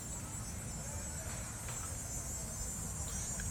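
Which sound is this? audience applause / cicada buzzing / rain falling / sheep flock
cicada buzzing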